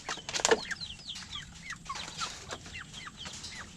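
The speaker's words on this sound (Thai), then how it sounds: "อันนี้เป็นมินิโคชินครับ" Small mini Cochin chickens cluck and chirp in a busy, overlapping chorus, fairly close, with a brief flutter near the start.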